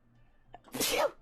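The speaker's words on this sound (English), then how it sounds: "Hold on, I sneeze." A single sneeze bursts out after a short in-breath, close and fairly loud, with no talking around it.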